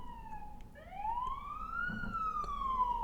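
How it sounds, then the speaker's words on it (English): A wailing siren rises and falls in pitch, sounding from some distance outdoors over a low background rumble. "Pardon the fucking sirens. Like, you hear this bullshit?"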